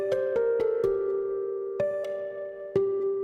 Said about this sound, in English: On top of that, we have this guitarette pluck melody thing.